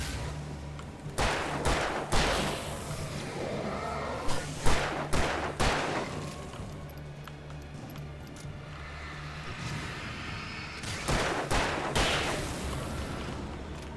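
Hip-fired gunshots in the video game Alan Wake ring out in loud, sharp bursts, several rapid shots around the two- and five-second marks and again near the end, over a steady low game ambience with no talking.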